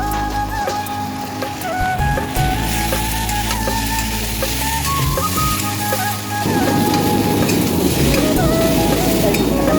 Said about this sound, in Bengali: মশলার বাটিটা ধুয়ে জলটা রেখেছি এটাই দিয়ে দেবো